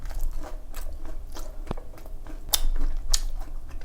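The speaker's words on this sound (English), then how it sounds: "And the bread is perfectly toasted. As you can hear the crunchy sound." A toasted gochujang grilled cheese sandwich with crunchy bread is bitten into close to the microphone, giving a sharp crisp crunch followed by a couple of quieter chewing crunches.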